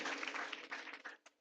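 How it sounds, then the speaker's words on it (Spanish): A church congregation applauding during a worship service, a brief burst of clapping that fades quickly, fairly faint and heard alone. "Dale un aplauso fuerte al Señor otra vez."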